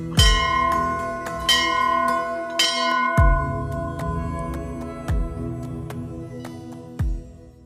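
Temple bells at a hillside shrine in Pauri Garhwal, Uttarakhand, struck one after another in a loose, uneven rhythm, each bright clang ringing out and decaying over the others, close and fairly loud with no talking.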